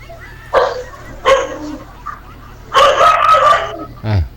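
Someone imitates animal calls vocally, with short bark-like bursts, a longer crowing-style cry and a final rising yelp. The calls come in separate loud bursts with quiet gaps between them and a low hum underneath.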